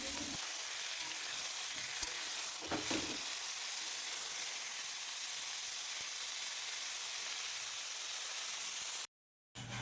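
Pieces of steamed cauliflower fry in hot oil with a steady, dense sizzling hiss, a brief stir of the pan partway through, then the sound cuts off abruptly.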